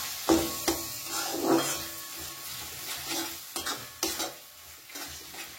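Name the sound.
stirring onion poppy-seed paste mixture in a pan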